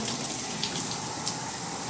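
Steady hiss of water streaming from a bathtub shower head, with the diverter pulled up so nothing flows from the spout; continuous and close, without pauses.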